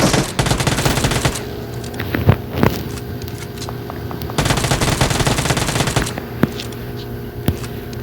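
Gunfire in the mobile game PUBG Mobile, rapid bursts of automatic shots layered with single cracks and a vehicle engine, loud and dense throughout with no voices.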